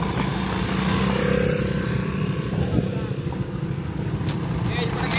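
Engines rumble steadily as motorbikes idle and pull away, a continuous dense drone with people talking nearby.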